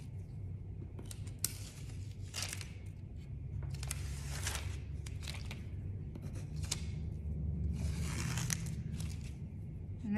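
A paint stencil is peeled off a craft board with tweezers, giving soft intermittent tearing and sticky crackles in short bursts over a quiet low hum, close and faint.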